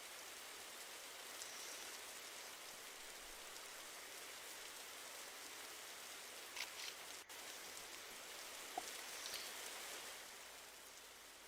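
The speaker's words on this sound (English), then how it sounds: "We are somewhere where it is raining." Steady rain falling in a VRChat virtual world, a soft, even hiss of raindrops that continues throughout with no voices, with only a few faint clicks near the end.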